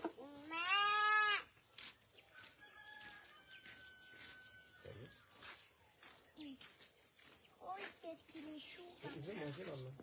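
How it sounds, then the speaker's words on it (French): Sheep bleat on a neighbourhood walk, with one loud, close, wavering bleat at the start, then fainter animal calls and people talking quietly through the rest. "Voilà les moutons."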